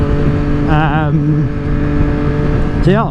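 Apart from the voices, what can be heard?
Triumph Street Triple 765R with SC Project exhaust revving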